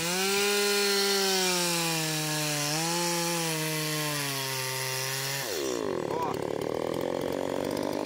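Stihl 180 chainsaw felling a eucalyptus tree, its loud steady engine whine holding a high pitch for about five seconds, then dropping into a rough, gritty cutting roar as the chain bites into the wood.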